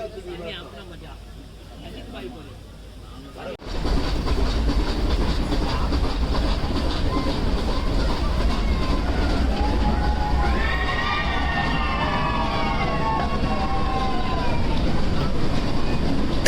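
After a quiet start, the Ooty toy train on the Nilgiri Mountain Railway rolls in with loud, steady rumbling and rail clatter. Partway through, excited voices and cheering passengers rise above it.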